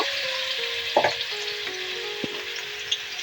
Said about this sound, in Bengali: এই তেলে আমি প্রথমে এঁচড় বা কাঁচা কাঁঠালটা ভেজে নিব